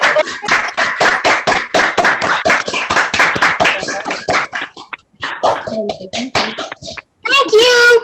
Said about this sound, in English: Round of applause Go.